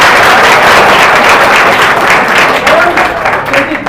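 Audience applause welcoming students at a coaching-class self-governance day and farewell function, a dense continuous clapping crowd sustained for the whole span, loud and close.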